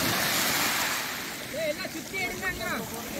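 Surf washing continuously onto a beach strewn with pebbles, a broad loud hiss that eases slightly, with people talking and some birdlike chirps over the waves.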